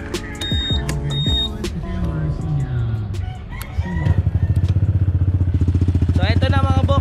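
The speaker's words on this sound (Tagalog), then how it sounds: "natanggal ko na yung silencer ng Villain muffler ko. So sound check na natin. Start ko na." A Honda PCX scooter with a Villain muffler, its silencer removed, starts up about midway and settles into a loud, steady, rapid exhaust putter after some background noise and talking.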